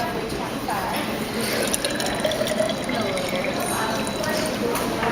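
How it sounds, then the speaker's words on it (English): Liquid solution poured from a beaker into a graduated cylinder at a lab bench, a steady trickling pour running for several seconds amid faint room noise. "And now we take our solution and put it in our graduated cylinder."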